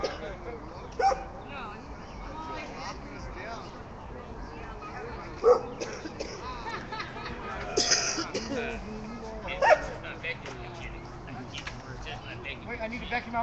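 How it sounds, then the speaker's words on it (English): A dog at a boat ramp protest gives a few sharp barks and whimpers, spaced apart and fairly faint, while people talk over the scene throughout. "this individual over here is intentionally antagonizing this dog"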